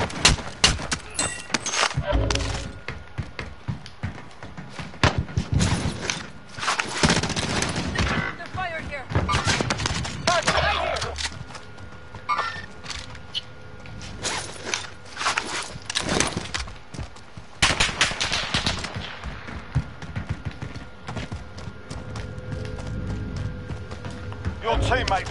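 Gunfire in Call of Duty Warzone, irregular bursts of shots and impacts scattered through the clip amid game effects, moderately loud, with a voice briefly heard.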